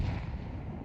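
A grenade explodes in Counter-Strike 2 as a dense, booming rumble that fills the whole short moment, heavy and low with a broad wash of debris-like noise, loud and close.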